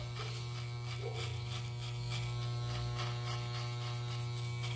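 Electric hair clippers fitted with a low guard cut a fade haircut, a loud steady close buzzing hum running unbroken throughout with faint crackle of cutting over it.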